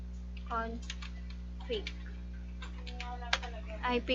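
Computer keys are tapped in short, scattered bursts while a command is entered at a Windows command prompt, with a person talking throughout over a steady low electrical hum.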